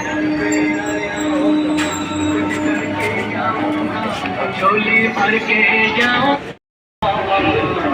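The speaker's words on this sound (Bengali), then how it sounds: "ছেড়ে দিয়েছে ট্রেন।" Katwa local passenger train pulling away, a steady rumbling, clattering carriage noise with rail squeaks and tones heard from inside, continuous and fairly loud, with faint voices in the carriage and a brief dropout near the end.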